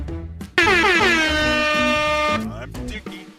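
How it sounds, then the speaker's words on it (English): A loud soundboard air horn blasts for about two seconds in a harsh, brassy, sustained tone, with people talking just before and after it. "giving his all with the air horn right there"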